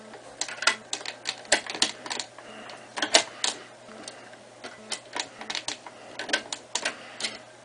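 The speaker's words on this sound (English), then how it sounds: "now take those 2 screws out" Two Phillips screws being backed out from underneath a Keurig 2.0 brewer give rapid, irregular bursts of sharp ticking clicks, close up and fairly quiet, with no voice present.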